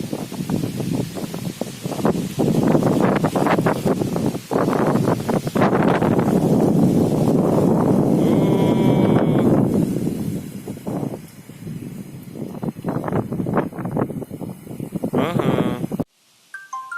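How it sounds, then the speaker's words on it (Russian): Strong hot wind gusts hard through swaying poplars, a loud continuous roar and rustle with buffeting on the microphone, easing briefly near the end before picking up again. "Ветер ужасный, сегодня прям ураган с горячим ветром."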